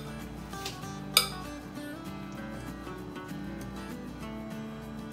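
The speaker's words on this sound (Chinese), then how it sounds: "这是刚才切好的草莓，我们加一半在里面，稍微搅拌一下就好" A spoon stirs strawberries into a chicken breast salad in a bowl, giving soft scraping and faint clinks with one sharper clink near the start, quiet and close.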